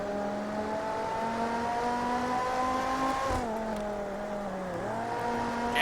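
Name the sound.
V8 race car engine in Total Immersion Racing video game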